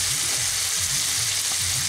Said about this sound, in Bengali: এইগুলোকে একসঙ্গে নিয়ে আমি আরও 2 মিনিট কষিয়ে নিচ্ছি